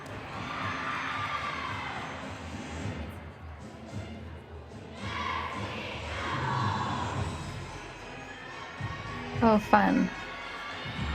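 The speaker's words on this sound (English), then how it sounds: "They had a little cheer over there on floor." A women's college gymnastics team gives a short cheer from the floor exercise area during a meet, with shouts and crowd noise in a large gym under commentators' talk and a couple of thumps near the end.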